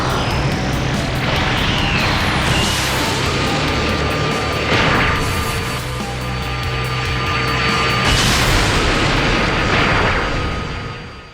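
A loud, sustained roaring energy blast rumbles continuously in a Dragon Ball Multiverse battle between Goku and Frieza in his true form, with surging swells and booming peaks throughout.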